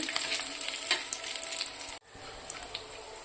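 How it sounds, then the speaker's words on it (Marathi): Dry coconut roasting in a pan for an Andhra-style katachi amti, a steady close sizzle with light stirring scrapes that drops out briefly partway through, then carries on. "आता आपण खोबरं पण तशाच प्रकारे छान भाजून घेऊया"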